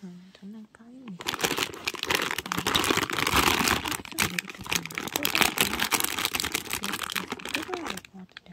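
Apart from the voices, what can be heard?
crinkling plastic packaging of a Daiso miniature bakery toy set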